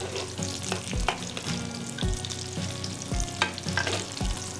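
Chicken cutlet frying in a pan, a steady close sizzle with bursts of crackle, punctuated by a few dull knocks and scrapes as the pieces are moved and flipped; no one speaks.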